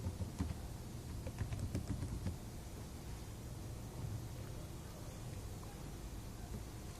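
Keys clatter on a computer keyboard in a short burst of quick taps during the first few seconds, then a quiet background hiss continues, faint and close.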